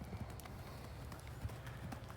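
A horse's hooves clip-clopping during flatwork in an arena, soft irregular thuds at a steady gait, fairly distant and muffled under a broad background hiss.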